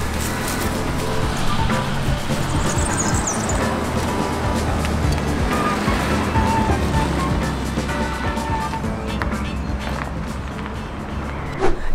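A Bentley Flying Spur First Edition driving, with a steady low engine and road rumble that holds at an even level throughout, alongside some wind and tyre noise.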